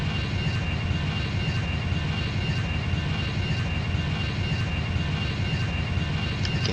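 An Airbus A320 jet landing in a flight simulator game, with a steady, loud, continuous engine roar and rumble filling the whole stretch without pause or speech.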